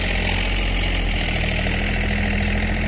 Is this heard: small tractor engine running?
yes